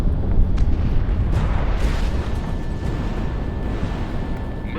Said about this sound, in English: Missile shot off.